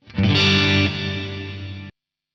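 A distorted electric guitar chord runs through a gated reverb on an Axe-Fx III with the hold time set high, ringing loud and dense for about a second and a half before being chopped off abruptly into silence.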